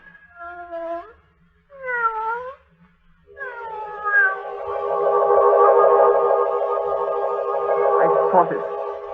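A staged cat yowls and meows in a radio drama effect, rising and falling cries that start in short bursts and then swell into one long, drawn-out, reverberant wail.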